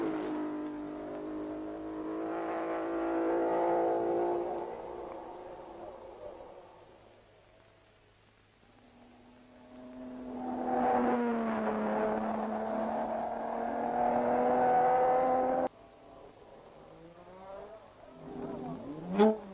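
An Aston Martin race car engine at Le Mans revs and accelerates through rising gear pulls, fading away, then returning loud with another long climbing pass before a short sharp burst at the end.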